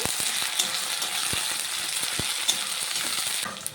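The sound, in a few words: onion frying in oil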